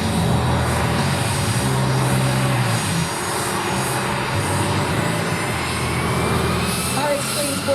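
An RV-8A airplane's engine drones loudly and steadily at an airshow race in Rome, Georgia, while an announcer talks over the engine noise.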